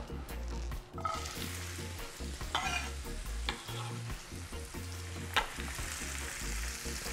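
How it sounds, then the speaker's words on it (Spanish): Onion and garlic sauté in vegetable oil for a sofrito, a close, busy sizzle broken by repeated scraping and clanking stirs against the pan, with no voices. "vamos a empezar a saltearlos para hacer nuestro sofrito"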